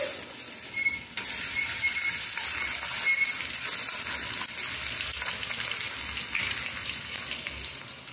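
Chopped onion hits hot oil already tempered with dried red chilies, bursting into a loud, close sizzle that settles into a steady, dense crackle with occasional stirring clicks.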